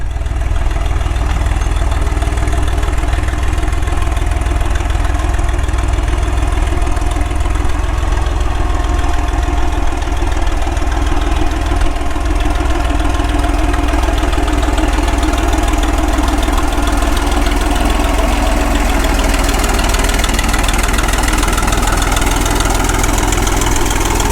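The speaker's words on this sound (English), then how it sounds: "that old 3-cylinder's just idling right along" An old three-cylinder tractor engine idles steadily and loudly, a low, even chugging rumble that runs on without a break.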